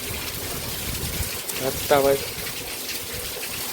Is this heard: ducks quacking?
no